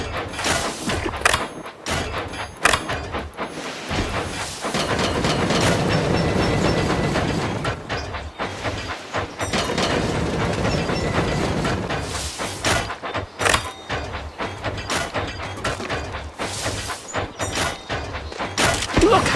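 A Thomas & Friends Minis toy train set clicks, rattles and thumps along plastic track, with brief bursts of clatter and a steadier running stretch in between. Close and moderately loud, with no talk.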